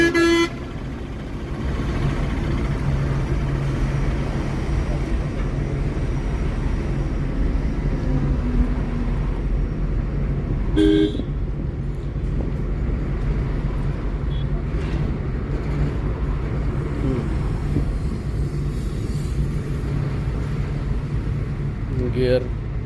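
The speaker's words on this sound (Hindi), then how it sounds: "एक्सीलेटर लीजिए, एक्सीलेटर लीजिए। स्पीड बढ़ाने में लेट नहीं होना।" A car's engine hums steadily while it speeds up on the road during a driving lesson in Ranchi, with an instructor talking over it and a brief horn toot near the middle.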